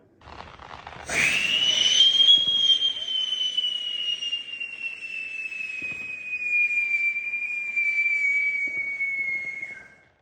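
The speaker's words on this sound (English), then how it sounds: "first a strobe rocket. It is the SpaceX strobe rocket from Astro Boy, and then a salute rocket." A SpaceX strobe rocket firework launches with a sharp burst and then a long, loud, slowly falling whistle that carries on for about nine seconds before cutting out.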